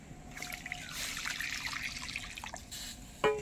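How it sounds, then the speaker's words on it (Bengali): Water trickles and splashes close by as it is poured into a pot of boiled potatoes in a home kitchen, a steady pour lasting a few seconds and ending in a sharp clink, with no voices. "জলটাই আবার দিয়ে সঙ্গে আরো একটু জল দিয়ে দেবো।"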